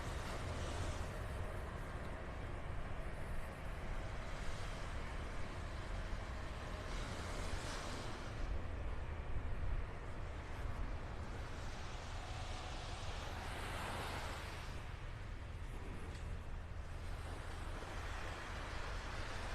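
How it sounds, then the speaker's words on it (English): An older John Deere truck drives along Vanderbilt Beach in North Naples, Florida, its engine a continuous low rumble that swells and fades over steady wind and surf, heard from a short distance with no talking. "That's an older John Deere. Definitely noisier than those new Volvos that they got out here."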